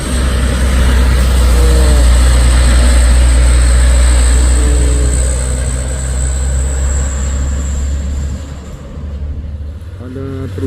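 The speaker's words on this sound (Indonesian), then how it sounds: "Truk sayur." A vegetable truck's engine churns out a loud, heavy low rumble on a daytime road, steady for several seconds before easing off and fading near the end.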